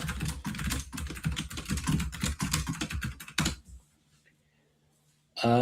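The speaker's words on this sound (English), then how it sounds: "get ready for the keyboard pounding" Fast, heavy typing on a computer keyboard rattles out as a dense, loud stream of key clicks for several seconds, then stops into near silence before a sudden loud burst at the very end.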